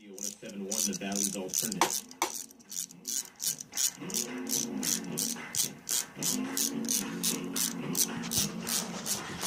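A hand ratchet clicks in quick rhythmic bursts while valve cover bolts are loosened on an engine head, close up, with someone talking between and over the ratcheting.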